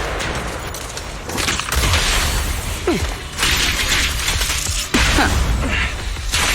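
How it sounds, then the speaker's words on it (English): Gunfire from the Grim Vulture enemy in Zenless Zone Zero: scattered shots and booming impacts over a dense bed of mechanical battle noise, a few louder bursts standing out amid steady clatter. "Watch out for Grim Vulture taking shots from afar."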